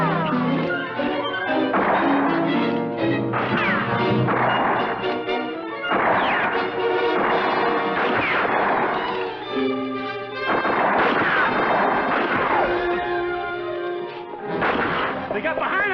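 Gunfire in a western cowboy gunfight, loud repeated sharp shots and bangs crashing over a busy orchestral-style soundtrack, with voices shouting between bursts.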